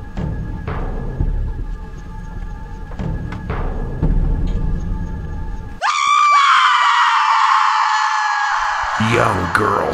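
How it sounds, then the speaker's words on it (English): A young girl's shrill, sustained scream from a horror movie trailer cuts in loud after several seconds of talking and holds for about four seconds before breaking off. "Young girl scream."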